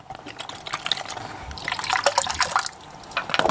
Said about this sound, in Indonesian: Tuang airnya.